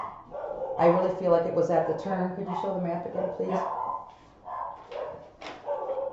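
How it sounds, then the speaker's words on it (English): Dogs bark and yip indoors in short bursts, partly under and between a person's steady talking, moderately close. "Sorry about the dogs."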